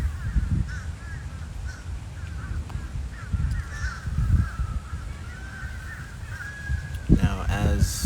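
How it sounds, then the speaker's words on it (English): Several crows caw repeatedly close by, harsh calls recurring throughout over a noisy outdoor background, with a few louder bursts toward the end. "I think I attracted some birds"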